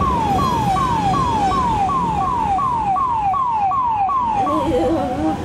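An ambulance siren in Tamil Nadu, India, blares close and loud in a fast repeating falling wail, about two sweeps per second, then switches to a warbling tone at the end over traffic noise.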